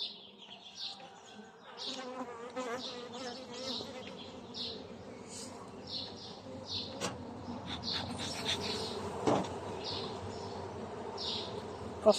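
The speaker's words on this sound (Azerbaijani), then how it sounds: "Qafqaz arısını bəzən çox agresif olduğunu deyirlər." Caucasian honey bees at the hive of a colony that came out of winter weak, a steady close buzzing swarm drone with individual bees passing near, while a person talks faintly in the background.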